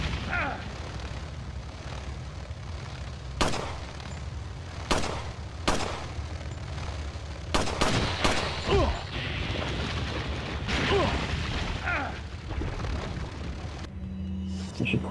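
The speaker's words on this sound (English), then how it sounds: "I should quit trying to do this with a fucking shotgun" Shotgun blasts in the Resident Evil 4 video game, several sharp booming shots fired at irregular intervals over a rumbling game soundscape, some shots in quick pairs.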